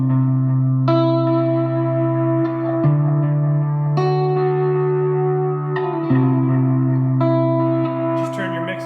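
Electric guitar through a Timeline pedal's dotted-eighth delay with the mix cranked, sustained chords changing every second or two, each followed by dense rhythmic repeats that wash continuously behind the playing.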